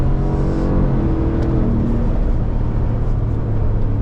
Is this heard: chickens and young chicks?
no